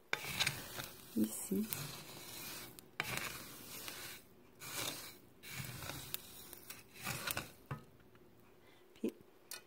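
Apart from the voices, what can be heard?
mustard seeds and spices roasting in a pan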